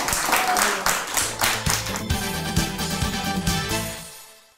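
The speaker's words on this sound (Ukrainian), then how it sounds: "Круто, ваші оплески." A studio audience claps in a bright, lively burst at first, which thins into scattered claps over low background music before fading out.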